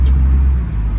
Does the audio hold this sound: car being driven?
yes